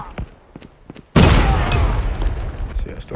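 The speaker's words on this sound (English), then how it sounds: "Grenade out!" A loud grenade blast in a Call of Duty match hits suddenly after scattered light shots, then gives way to a long rumbling roar and debris while a voice speaks before it.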